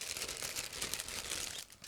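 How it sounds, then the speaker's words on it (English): Plastic packaging around separate chassis bars of a 1/35 scale IBG Models Chevrolet C60L lorry kit being cut open, giving a steady, close crinkling and crunching of plastic throughout with no talking. "I just need to cut through the plastic bag"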